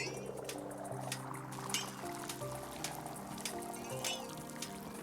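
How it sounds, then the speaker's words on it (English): Tea poured in the cozy game Wanderstop: a soft, continuous stream of liquid splashing and trickling into a cup, gentle and fairly quiet over a light musical background. "pour this tea."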